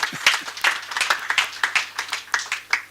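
An audience claps for a morning talk-series panel, with individual hand claps sounding as a loose, uneven patter of sharp slaps, fairly close and steady through the clip.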